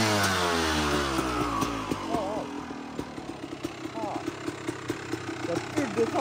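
A rebuilt Honda CR 250 two-stroke motorcycle engine runs close by, starting high and settling into a choppy idle with small blips of throttle, while someone talks over it.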